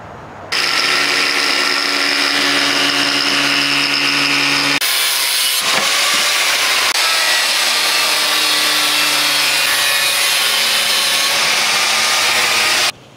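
A power tool with a cutting blade slices through shower tile, a loud steady whining grind that briefly changes pitch midway and runs for about twelve seconds before stopping.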